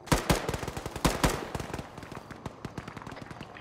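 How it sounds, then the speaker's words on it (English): Bursts of automatic rifle fire in an Arma 3 military simulation, with two sharp volleys close together and then scattered, fainter shots trailing off into the distance. "Getting shot at."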